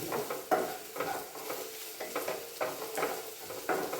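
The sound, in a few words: sautéing green chilies in pan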